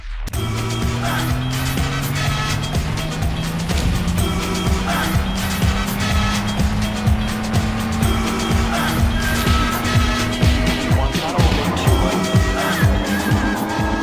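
An Indy car drives through tight Indianapolis city side streets, its loud engine note rising steadily as it accelerates and shifts, with tire noise underneath, continuous and close throughout.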